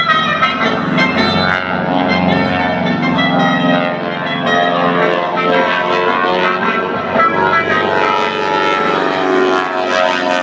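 A propeller airplane at an air show, wheels down, roars past close by with a loud, continuous rasping growl from its propeller tips going supersonic, holding steady throughout.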